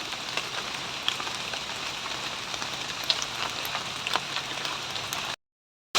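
Rain falling outdoors on a cold day of mushroom picking, a dense, steady patter of drops on surfaces with occasional louder nearby hits, continuous until a sudden cutoff near the end.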